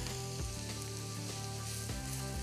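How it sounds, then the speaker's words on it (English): Cabbage mix simmering in a pan gives off a steady, fairly faint sizzle and bubbling under a constant hum, with no voices. "I'm gonna just let this simmer here."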